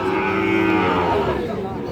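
A Sahiwal bull calf, about seven to eight months old, moos in one long, loud, drawn-out call at a cattle sale, with a faint murmur of voices behind it.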